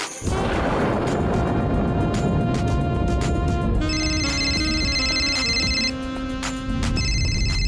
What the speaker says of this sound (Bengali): আরে ফোনটা ধরো।